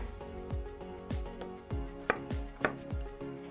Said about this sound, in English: just cut them into medium-sized pieces